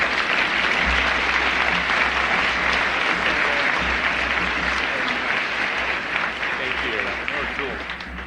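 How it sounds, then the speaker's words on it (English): An audience gives a big round of applause for Google Executive Chairman Eric Schmidt, dense sustained clapping from a large crowd that carries loudly through the whole stretch and fades slightly at the end. "big round of applause for Google Executive Chairman Eric Schmidt"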